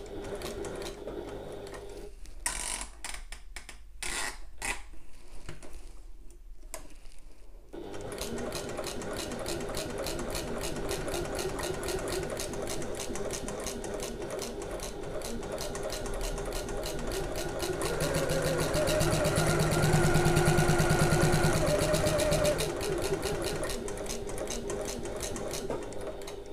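A sewing machine stitches a messenger bag, beginning with a few short bursts and pauses, then running in a long continuous whirring rattle that grows slightly louder before easing off.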